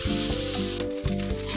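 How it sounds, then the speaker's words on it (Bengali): Cauliflower filling for kachori frying in a pan, a loud close crackling sizzle that runs continuously with faint stirring scrapes and no talking. "আমি 5 মিনিট খুব ভালোভাবে এটাকে কষিয়ে নিয়েছি।"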